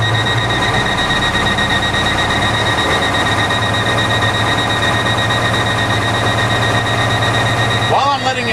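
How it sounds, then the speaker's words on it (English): Low air pressure warning buzzer in a running truck's cab during a CDL pre-trip inspection, a steady continuous tone over the idling engine, loud and unbroken throughout. "there's a low air pressure warning light and buzzer now that the truck is running"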